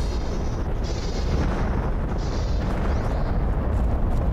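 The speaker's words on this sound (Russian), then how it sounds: "Все летит, все взрывается, блин, вообще крутота." Explosions in The Planet Crafter, a Mars survival video game: a continuous loud, dense rumble of blasts and booms with no clear gaps, sustained and close throughout.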